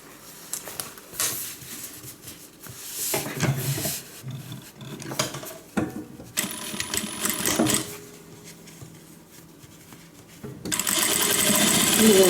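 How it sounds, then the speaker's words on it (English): A sewing machine stitches the side seam of a guitar-shaped handbag pocket in several uneven bursts between fabric rustling and handling, ending in a longer continuous run. "we're just going to line them up and stitch 1/4 inch all the way down the side of the pocket"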